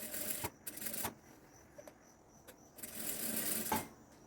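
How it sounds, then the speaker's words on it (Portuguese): A domestic sewing machine with a standard presser foot runs a crotch seam in short, whirring bursts, steady needle chatter starting and stopping at close range with no talking. "vou usar um calcador comum, iniciando pela costura do gancho"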